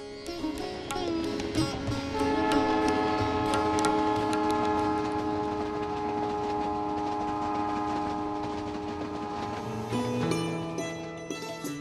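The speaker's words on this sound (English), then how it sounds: "as the train takes you to Bharatpur" A train bound for Bharatpur, Rajasthan, rumbles steadily while a long, sustained horn blares for several seconds, with rhythmic clatter of wheels on rails underneath.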